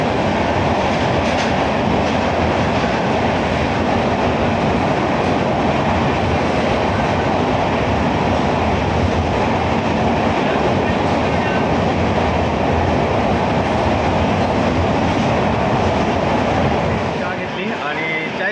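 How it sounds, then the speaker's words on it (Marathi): Loud, continuous roar of a passenger train running inside a tunnel, heard from on board, a dense rumbling wash with faint rhythmic clatter, steady for the whole stretch before easing slightly at the end. "अचानक बोगद्यात आलो आपण, ट्रेन आपली, त्यामुळे खूप नॉइसिंग होत होतं"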